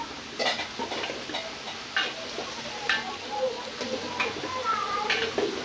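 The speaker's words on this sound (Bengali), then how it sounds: "সবগুলো সবজিকে একসাথে মশলার সাথে মিশিয়ে দিচ্ছে।" Vegetables, jackfruit and potatoes are stirred with spices in a pan while cooking traditional Bengali pachon, giving soft scraping clicks and taps at an irregular rhythm over a gentle sizzle, with someone speaking throughout.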